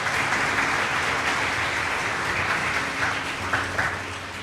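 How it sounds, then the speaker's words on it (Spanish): A church congregation applauds the Lord during a Spanish-language sermon, dense steady clapping filling the whole stretch at moderate level with no voices over it. "Dele un aplauso al Señor por eso esta mañana"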